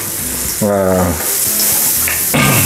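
Garlic, ginger and onion sautéing in a hot pan, giving a steady loud sizzle with stirring scrapes and a few brief voiced sounds over it.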